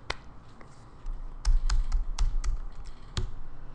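Keystrokes on a computer keyboard click close up, a few sparse taps at first, then a quicker burst of typing as a name is entered, crisp and distinct with no speech.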